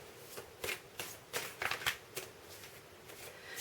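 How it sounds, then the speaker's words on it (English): A deck of large tarot cards is shuffled by hand, giving soft, close riffling and slapping bursts in an irregular rhythm at a quiet level. "So I'm just going to give it a shuffle."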